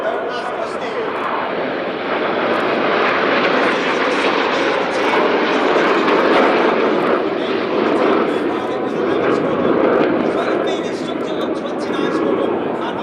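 Red Arrows jets roaring through an air display at RIAT 2025, a loud continuous broadband engine rush that swells and holds throughout, with faint voices now and then.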